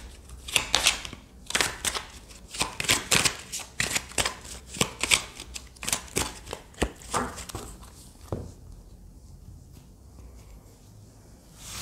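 Tarot cards shuffled by hand in a series of quick, dry riffling and slapping bursts for about eight seconds, close and fairly loud, followed by quieter handling with no speech.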